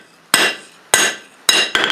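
A hammer forges steel on an anvil while a top tool fuller is made: four sharp, ringing metallic strikes, the first three evenly spaced and the last following quickly, each with a short decaying ring.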